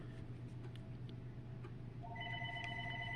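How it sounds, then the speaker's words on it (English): A telephone rings in a quiet room where earrings are being made, faint electronic ring tones starting about two thirds of the way in and repeating in short bursts over low background hum. "I apologize for the phone ringing."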